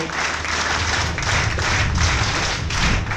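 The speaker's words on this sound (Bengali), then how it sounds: "আমরা তাদের জন্য একটা জোরে হাততালি দেব।" Audience applause for the mothers at a school reception honouring Golden GPA achievers: a dense, steady roar of many clapping hands that holds for about three seconds with slight swells, with no one speaking over it.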